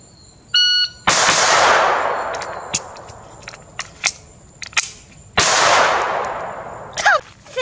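Kel Tec P17 pistol shots fired outdoors on a buzzer timer: a beep, then several sharp, loud reports spaced irregularly with ringing decay, a second string of shots near the end.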